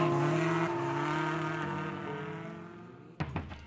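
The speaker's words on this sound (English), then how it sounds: "the sound of squealing tires, roaring engines, and tuned exhausts reverberated throughout the night" Drift cars at Ebisu circuit in Japan roar past with engines holding a loud, sustained note that slowly fades, then a sudden sharp burst of engine and tire noise cuts in near the end.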